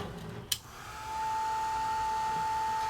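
A hair dryer drying ink on paper for a crafting project switches on after a short click, then blows as a steady, loud whooshing hum that holds evenly to the end.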